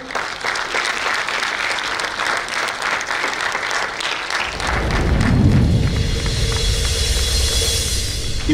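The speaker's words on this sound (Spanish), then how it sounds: "Un fuerte aplauso." Audience applause at a rap composition contest event about migration, steady clapping that swells midway with a deep rumbling boom underneath, loud and sustained.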